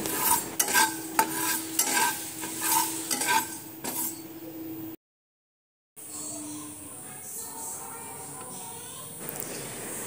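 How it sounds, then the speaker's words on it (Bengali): Fenugreek, coriander and cumin seeds dry-roasting in a hot pan: a spoon stirs and scrapes steadily with light clinks over a faint sizzle, broken by a second of silence midway, and the stirring continues afterward. "এবার একটি কড়াই গরম করে 1/2 চামচ মেথি, 1 চামচ ধনে আর 1 চামচ জিরে শুকনো খোলায় ভালোভাবে টেলে নেব"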